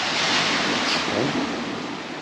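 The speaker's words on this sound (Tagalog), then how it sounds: "Kinig ka lang dito sana sa alon ng dagat." Sea waves washing onto a beach on Polillo Island, Quezon, heard as a steady broadband rush with a soft swell partway through, fairly close and with no voices over it.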